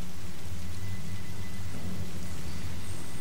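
Rain and thunder in a dark, rainy area of the video game Fatal Frame: Maiden of Blackwater, a dense steady rain hiss over a deep low rumble of thunder that swells and rolls on, with no voices.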